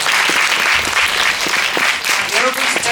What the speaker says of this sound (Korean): 그럼 가시는 동안 박수로 보내드리도록 하겠습니다